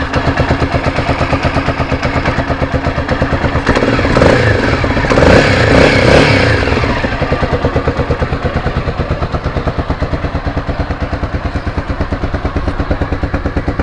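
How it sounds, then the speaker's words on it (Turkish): An RKS Winner 200 motorcycle engine idles close by with a steady, rapid rhythmic putter, swelling briefly in a short rev near the middle before settling back to idle, with no talking. "Alt takım sesi böyle."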